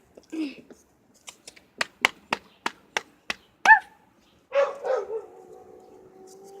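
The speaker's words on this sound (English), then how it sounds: "there's a mean dog over there" A dog barks in a quick series of sharp, evenly spaced barks, then lets out a drawn-out whine or growl, with a brief voice at the start.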